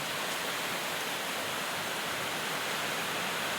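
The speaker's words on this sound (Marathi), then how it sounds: "पाणी खूप भयानक चालू आहे जोरात." Heavy monsoon rain pours down with water rushing hard nearby, a dense, steady roar filling the scene without pause and with no voices.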